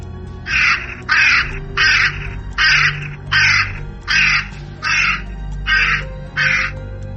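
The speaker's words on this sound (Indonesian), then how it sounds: "banyak burung gagak yang berbunyi di mana-mana" Crows caw in a regular series of about nine harsh, evenly spaced calls over a low background rumble.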